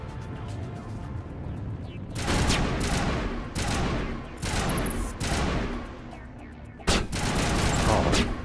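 Sniper rifle fire and combat blasts in the video game Mass Effect, loud bursts recurring every second or so over a constant rumbling din, with a sharp crack near the end.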